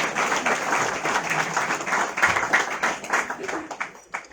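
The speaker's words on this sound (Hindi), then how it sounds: "ताली बजाओ।" Audience at a college orientation program claps loudly and steadily, a dense crowd applause lasting several seconds before thinning out at the end.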